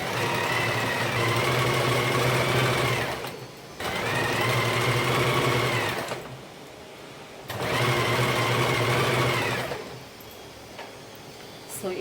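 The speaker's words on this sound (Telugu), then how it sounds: "ఇప్పుడు సైడ్స్ ఇలా కొంచెం ఫోల్డ్ చేసేసి స్టిచ్ చేసుకుందామండి." A sewing machine stitches a saree fall in three long, fast, steady runs, with short pauses between them and no talking.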